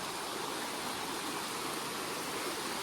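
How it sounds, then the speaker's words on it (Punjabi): A river in a Swedish forest runs strongly, making a steady broadband rushing roar with no pauses. It sounds even and moderately loud throughout, with no voices. "ਪਰ ਆ ਨਦੀ ਬਹੁਤ ਚੱਲਦੀ ਆ ਯਾਰ"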